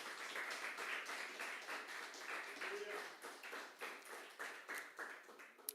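Church congregation applauding during a service, a soft, distant run of rhythmic clapping with regular beats, faint overall and fading toward the end.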